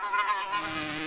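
A cartoon fly buzzes steadily and close by for about a second, a thin whining drone with no talk over it.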